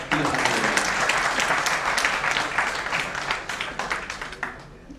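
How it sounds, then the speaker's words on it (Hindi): Applause and clapping from a large audience at a public address in Uttar Pradesh, dense at first and then gradually thinning out over five seconds into fewer, separate claps. "ताली कम बज रही है, बाबूजी बजा रहे हैं।"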